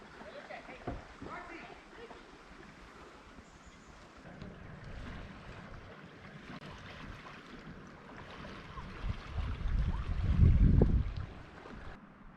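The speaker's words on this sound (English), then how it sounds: "All right, this is by the other boat dock." Wind and lapping water at a boat dock on South Puget Sound, Washington, with steady gusty noise that swells louder near the end while a voice talks faintly beneath it.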